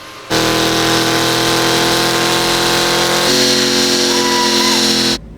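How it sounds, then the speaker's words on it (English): A BMW G87 M2 engine drones steadily at high load on a dyno with strong harmonic tones, shifting pitch partway through, loud and close, then cutting off. "now we're actually gonna run my car to see how much power it makes"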